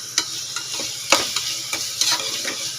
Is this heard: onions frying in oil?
yes